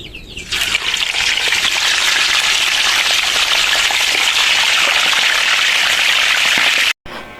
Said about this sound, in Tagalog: malamig na yung ulo at pwede na natin siyang iprito